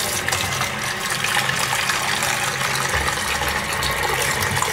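Water is drawn for pouring and gushes in a steady, loud, unbroken stream, as if running from a tap into a container, with no talk over it.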